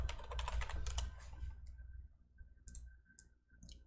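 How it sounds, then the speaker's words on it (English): Quick clicking keystrokes on a computer keyboard, a fast flurry of taps followed by a few sparser, softer presses, close and quiet. "I'm going to type support."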